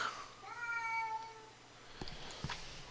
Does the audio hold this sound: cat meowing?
yes